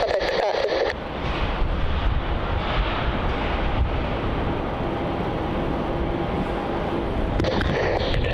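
A Qantas Boeing 777 takes off from Melbourne Airport, a broad, rushing jet roar heard from a distance, mixed with wind buffeting on the microphone and steady throughout.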